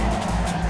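A car spinning out in Need for Speed Underground 2, a loud continuous tire squeal over a roaring engine that fills the whole moment, close and steady, without speech.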